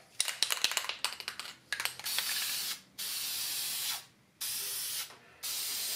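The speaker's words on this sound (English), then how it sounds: "I'm going to get this lacquer sprayed on here" Lacquer is sprayed onto a wooden band saw box from an aerosol can: a few quick rattling clicks, then several steady hissing bursts of about a second each, separated by brief silences, close and alone.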